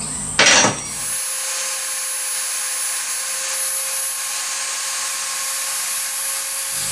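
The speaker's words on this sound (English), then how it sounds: "So I just got to advance the drill bit using the compound only, and we'll stay aligned with that mark." A drill bit is fed by the compound slide into metal on a lathe in a home workshop. It gives a steady, even machining whine with a sharp clatter at the start, then holds a constant tone with no talk.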